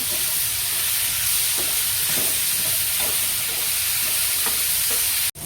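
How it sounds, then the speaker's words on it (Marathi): Chopped tomatoes sauté in a hot pan for a Maharashtrian sprouted matki dry curry, giving a steady, close hiss and sizzle with faint stirring scrapes and no talking. "आता आपण टमॅटो घालूया दोन मिनटं परतून घ्यायचं याला"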